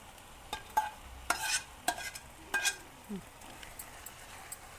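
Roasted cashews stirred into a pan of frying food with a spoon: scattered scraping and light clinking over a soft sizzle, close and fairly quiet, with no clear speech.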